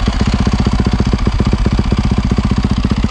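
A 2019 Yamaha YZ450F with a supermoto conversion and FMF exhaust idles loud and close, a fast, even thumping pulse of exhaust beats with no talk over it.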